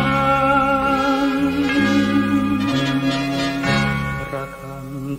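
A Thai Buddhist temple bell rings with sustained, resonant metallic tones that shift in pitch and slowly fade near the end, heard on its own without talking.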